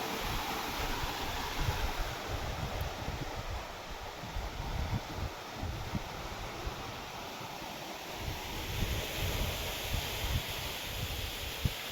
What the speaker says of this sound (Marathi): आता ऊन ओके झालंय पाणी या पद्धतीने मारतोय